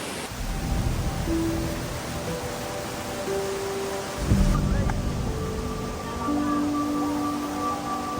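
Water rushes down Rupshi waterfall in Sitakunda as a steady, broadband roar close by, with a few faint tonal hums drifting over the constant spray and no clear voices.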